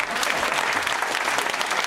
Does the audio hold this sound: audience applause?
yes